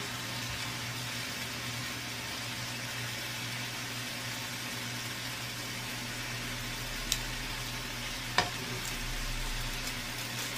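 Stir-fried potato with tempura mixed in a pan: a steady, even sizzle of frying fills the clip, with two sharp clicks of a utensil against the pan near the end and a low hum underneath.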